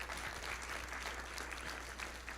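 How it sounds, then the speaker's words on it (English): Audience applause at a violence prevention collaborative meeting, a faint, steady wash of clapping lasting a couple of seconds against a low background hum. "Let's give them a round of applause one more time"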